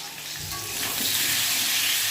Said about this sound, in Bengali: ডিম ভাজা হয়ে গেছে, আলুটা ভাজছি